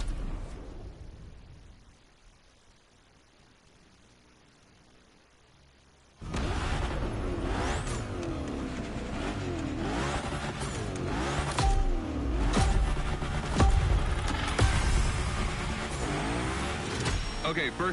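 The Unicorn car in The Crew Motorfest revs hard and slides through gymkhana drills, a loud engine roar bursting in after several seconds of near silence and rising and falling with each throttle push, with a voice speaking over it.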